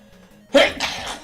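A single sharp sneeze bursts out after a moment of faint background video-game music, then trails off into a brief breathy tail.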